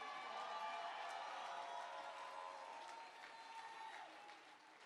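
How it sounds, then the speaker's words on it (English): At a convention closing ceremony, a crowd applauds its team in a steady, distant wash of clapping that holds evenly and eases slightly toward the end, with faint voices mixed in. "Give my team a round of applause"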